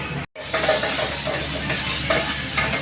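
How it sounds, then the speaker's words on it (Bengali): Garlic and cumin seeds fry in hot ghee for a dal tarka tempering, giving a loud, steady sizzle with faint stirring scrapes. A brief gap near the start interrupts it. "ঘির মধ্যে তরকা দেওয়া হচ্ছে গার্লিক আর জিরে ফোড়ন দিয়ে"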